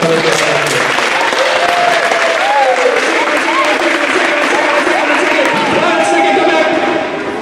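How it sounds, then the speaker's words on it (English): Loud, continuous applause and cheering from a crowd at a middle school awards ceremony for a group of students, close and dense, with voices and whoops mixed into the clapping throughout. "a round of applause for these students"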